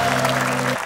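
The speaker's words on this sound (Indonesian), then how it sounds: "Tepuk tangan buat Tianti, selamat bermain." A studio audience on an Indonesian game show applauds in a short, dense burst of clapping over a low electrical hum.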